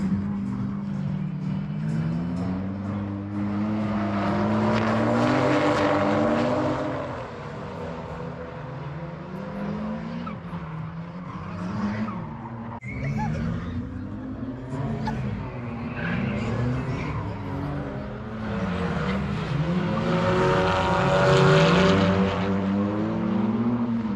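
A BMW drag car launches down the strip at Santa Pod, its engine roaring loud and close with rising, surging revs that swell and dip across the run, continuous and without talk.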